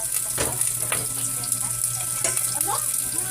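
Onions frying in a pan for mami soup, a continuous bright sizzle with occasional stirring clatter, fairly close and moderately loud, with a brief voice in the background.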